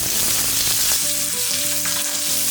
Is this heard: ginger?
yes